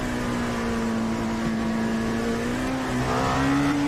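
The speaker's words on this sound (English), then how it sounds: "really maxing out the revs there, getting a little bit of a tow from the car ahead" An LMP2 prototype race car at the Nürburgring holds a high, sustained engine note at full revs, a steady buzzing drone that climbs slightly in pitch toward the end, heard continuously without voices.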